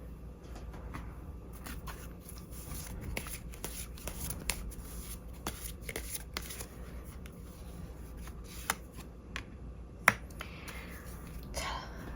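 Tarot cards are shuffled and handled close up, with soft riffling and a few sharp snaps and taps against a quiet room background.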